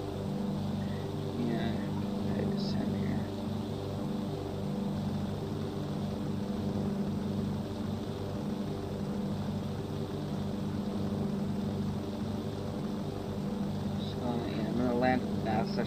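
Lockheed Super Constellation piston engines roaring steadily at full throttle in the FlightGear flight simulator, a continuous droning hum with no breaks, moderately loud throughout.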